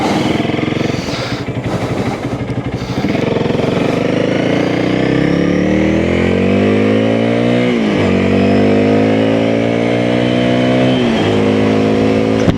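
Honda CRF300L motorcycle engine revving up through the gears, rising whine repeatedly climbing and dropping at shifts, loud and close, riding alone without talk.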